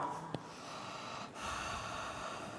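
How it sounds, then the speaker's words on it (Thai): Deep, long breathing during a yoga core workout, a slow drawn-out airy exhale and inhale heard close against a steady background hiss, with a brief sharp snort-like sound near the start. "หายใจลึก ๆ ยาว"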